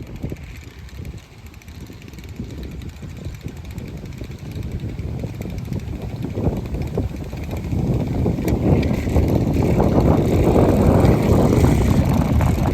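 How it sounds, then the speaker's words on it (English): A powerful homemade fan spinning up to around 1800 RPM, giving a broad, steady whooshing roar that grows louder over the span with rushing air noise, no talking. "Very powerful fan, does a really good job."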